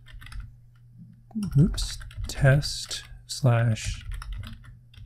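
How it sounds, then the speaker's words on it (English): An MQTT topic is typed on a computer keyboard, giving scattered light key clicks across the stretch, under a few short spoken words. "I need to tell it what topic I'm subscribing to. So let me type that in."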